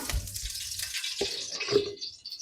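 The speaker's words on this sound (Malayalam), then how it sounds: "എണ്ണ ഒഴിച്ചു കൊടുക്കുകയാണ്" Cooking oil is poured into a pan for chicken curry, making a short, quiet liquid trickle and splash up close, with no speech.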